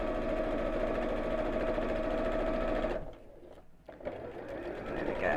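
Sewing machine stitching a circular fabric lining, a close, steady rapid mechanical whirr that stops briefly, then restarts for a few short stitches with no talk.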